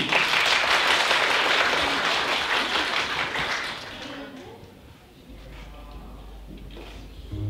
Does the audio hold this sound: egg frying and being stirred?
no